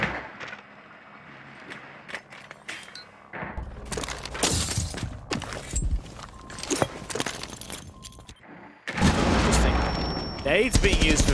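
Grenade blasts and shattering debris during a Rainbow Six Siege esports match, sharp bursts and breaking sounds, with a heavier rumbling explosion near the end and a commentator's voice in the background.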